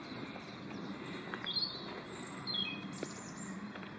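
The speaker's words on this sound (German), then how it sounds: "Ich hoffe, ihr hört die Vögel." Birds chirp and trill faintly outdoors during a walk, a few short high calls scattered over a steady low background hum, with no talking.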